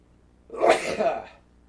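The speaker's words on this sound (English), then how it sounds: "I'm going to sneeze." One close, sharp sneeze bursts out with a quick inhale and explosive release, otherwise quiet around it.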